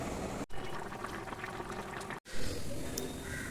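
Running water as small market-cut fish are rinsed in a home kitchen: a steady close splash and pour that breaks off briefly twice, with faint clatter over it.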